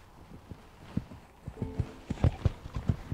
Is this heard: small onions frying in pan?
no